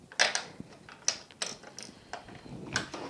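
A presser foot is changed on a sewing machine in a run of small, faint metallic clicks and snaps, irregular taps and ratchety ticks close to the microphone.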